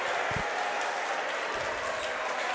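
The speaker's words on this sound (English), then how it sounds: "The St. John's crowd is standing up, clapping" Steady applause from the crowd and bench at a high school basketball game between Baltimore Poly and St. John's, a sustained wash of clapping with faint thuds underneath.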